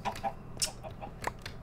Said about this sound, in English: Mr. Rooster, you're so rude.